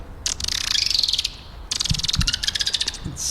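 A person imitating a dolphin call with their mouth: two bursts of rapid high squeaky clicking chirps, broken by a short pause, loud and close with no other sound.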